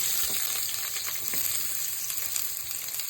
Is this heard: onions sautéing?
yes